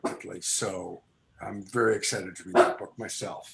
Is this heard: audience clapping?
no